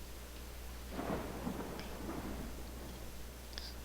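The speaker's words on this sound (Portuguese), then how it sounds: "Nossa, chuva forte." Heavy rain hisses steadily in a video game while a deep roll of thunder swells and fades, with a couple of faint ticking sounds.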